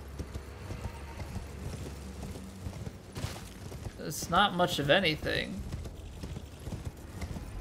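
Horse hooves gallop in Elden Ring Shadow of the Erdtree, a rhythmic clip-clop at moderate volume mixed with game ambience and a brief whinny, while someone talks over it.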